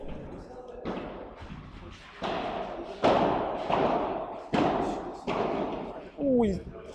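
In a doubles quarterfinal at the Head Padel Open 2018, a padel ball is served and hit during a rally, giving a series of sharp, evenly spaced thwacks with echoing decays before a brief voice at the end.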